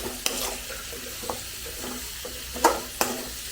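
Sliced onions sauté in a pan with a soft, steady sizzle while a utensil stirs them, scraping and tapping against the pan in irregular strokes close by.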